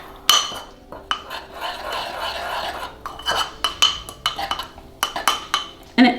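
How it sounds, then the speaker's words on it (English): A spoon stirs milk into a thick, runny dessert batter in a bowl, with repeated clinks and scrapes against the dish at an uneven rhythm, close and fairly quiet. "then we're gonna mix it really well together."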